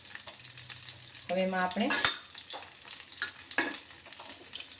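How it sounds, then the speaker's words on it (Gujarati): Potatoes sautéing in hot oil, a soft sizzle with stirring scrapes and a brief louder burst, heard under quiet talk. "જરાક બટાકાને તેલમાં સાંતળી લઈશું."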